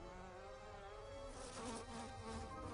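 Buzzing bee in the film Jungle Cruise, a continuous droning hum held close and steady for the whole span, swelling slightly in the latter half.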